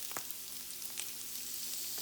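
Lobster tails sizzling in an olive-oiled pan, a steady bright frying hiss with a few small crackles and pops, close and continuous with no talking.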